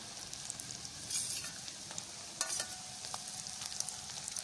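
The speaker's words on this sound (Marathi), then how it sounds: "कांदा मस्त फ्राय झालेला आहे, त्यात आता मिरचीचा जो ठेचा केला आहे तो घालायचा आहे" Onion and chili paste frying in a pan on a wood-fired stove give a steady close sizzle, broken by a few louder stirring scrapes and bursts of crackle.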